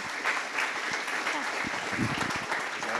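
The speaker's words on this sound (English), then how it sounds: "give Chris one more round of applause" A gala crowd at Wingate University's Blue Carpet event applauds Chris, steady clapping mixed with cheers and voices talking over it throughout.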